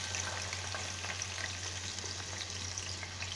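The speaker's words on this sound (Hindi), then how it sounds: "और इसके साथ ही हम सब्जियों को भून लेंगे हल्का हल्का।" Vegetables for veg biryani fry in hot oil, a steady, dense sizzle that holds at an even level throughout with no voices.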